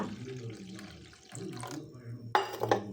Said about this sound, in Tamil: இந்த மாதிரி ஒரு டம்ளர் தண்ணி ஊற்றிக்கோங்க